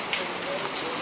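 Steady rain falls outdoors under a cloud-filled sky, a dense, even hiss of drops on surfaces that holds at moderate loudness throughout, with no distinct individual drops standing out.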